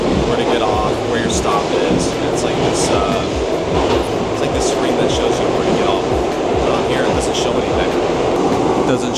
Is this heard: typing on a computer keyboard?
no